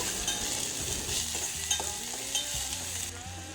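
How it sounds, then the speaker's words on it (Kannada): Curry leaves, chopped onion and coriander leaves fry in hot oil in a North Karnataka festive dish, a soft steady sizzle with a few clinks and scrapes of stirring. "ಕೊತ್ತಂಬರಿ ಸೊಪ್ಪು ಹಾಕಿದ ನಂತರ ಅದನ್ನು ಎಣ್ಣೆಯೊಳಗೆ ಫ್ರೈ ಮಾಡ್ಕೊಳ್ಬೇಕು"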